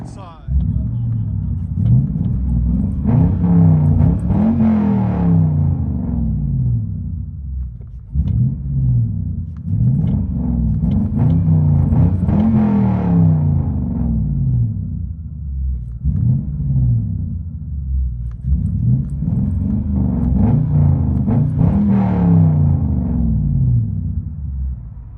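Interior sound of a Lexus LS430 with a 4.3L V8 and true dual straight pipes: loud, deep engine rumble rising through repeated hard accelerations with gear-shift dips, heard from inside the car with speech over it.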